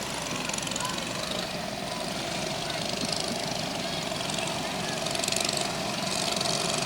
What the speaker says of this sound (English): their little 5 horsepower motors are just about as loud as the band